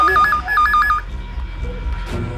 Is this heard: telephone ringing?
yes